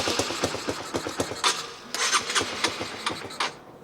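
A Honda CBR 125 motorcycle, rebuilt after being abandoned and now with a rough idle, starts and runs close by with a quick, uneven, sputtering single-cylinder pulse that fades out at the end.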